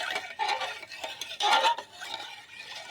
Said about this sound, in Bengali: এইরকমভাবে নাড়তে থাকবো। চিনিটা তাড়াতাড়ি সহজে গলে যাবে।